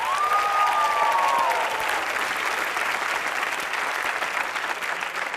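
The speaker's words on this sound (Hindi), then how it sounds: "इनके लिए जोरदार तालियां" Studio audience applause on a Hindi comedy show, Comedy Nights With Kapil, loud and steady throughout, with a brief whistle near the start and no talk over it.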